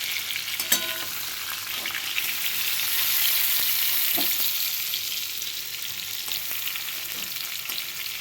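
Pointed gourd pieces frying in hot oil until reddish-brown, giving a steady close sizzle with occasional sharper crackles and a few faint clinks of a utensil against the pan.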